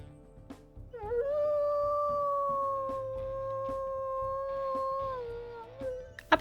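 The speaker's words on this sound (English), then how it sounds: "but first let's listen to her howls" A female wolf in the WolfQuest video game lets out a long, sustained howl that rises at the start, holds steady for several seconds and dips at the end, with faint clicks beneath it.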